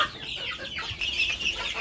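Chickens cluck busily nearby, a steady flurry of short, overlapping clucks with no pauses.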